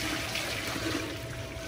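Water draining out of a cooking pot during home cooking of coconut-milk crab, a steady continuous rush and splash heard close up with no talking.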